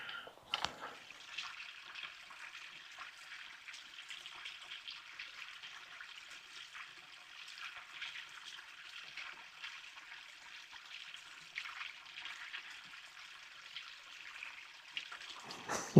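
Step Creek in Oregon's Tillamook Forest flows over its bed in a steady, soft trickle and babble, faint and even, heard alone for a long stretch with a small knock near the start.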